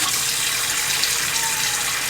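Cold tap water runs steadily into a kitchen sink filled with freshly cut garden greens, a constant close, bright gushing hiss with no pauses and no voices.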